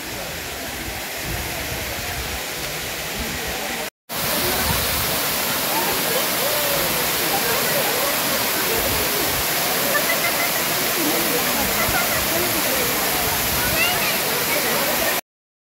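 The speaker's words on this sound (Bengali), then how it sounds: "একদম ফলসের কাছে যাওয়া যাবে।" Palani Falls near Ranchi roars as a steady, loud rush of falling water, broken by a brief dropout early on before the roar resumes at full strength.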